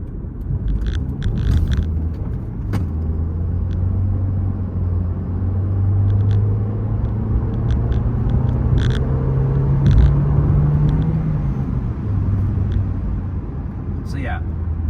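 A 2007 Toyota Corolla CE with a five-speed manual gearbox drives along a quiet road, its engine droning steadily with rising and falling pitch through gear changes, alongside steady cabin rumble and a few faint clicks.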